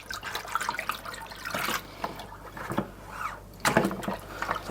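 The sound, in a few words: stirring a batch of honey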